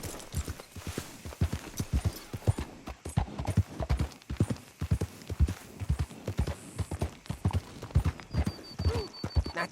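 Steady clip-clop of horse hooves walking at an even pace in Red Dead Redemption 2, fairly close and loud, with a brief whinny-like note near the end.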